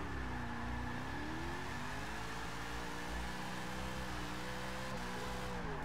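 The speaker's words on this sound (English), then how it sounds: "I'm just back here clutch kicking." A 2013 GT500 in Forza 6 holds a continuous, loud engine drone as the clutch is kicked, the pitch stepping up and down in small surges without pause.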